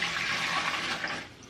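Water poured from a cooking pot into a camping water filter: a steady gushing, splashing pour running close and continuously, easing off slightly at the end.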